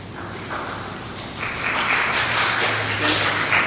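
Applause breaks out in the audience at an Amtrak station ceremony in Jackson, a soft patter of clapping that grows fuller and louder partway through and keeps going to the end.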